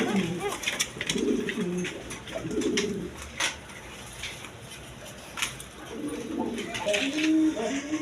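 Pigeons coo in several soft, throaty bursts from a male and female pair kept for sale with their squab, heard close against background chatter and market noise.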